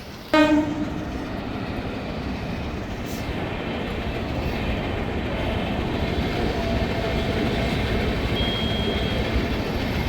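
A short train horn blast, then a train rumbles and clatters past close by at a railway level crossing in Nandivelugu, Guntur, a loud steady roar that continues to the end.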